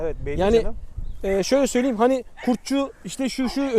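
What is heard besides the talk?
No distinct noise like a dog, phone or traffic.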